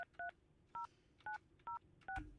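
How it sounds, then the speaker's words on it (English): Touch-tone dialing on an antiquated phone system, six short beeping tones in an uneven rhythm, close and clear, followed by a faint click, with no talk. "For the hotline, I got dial 9, right?"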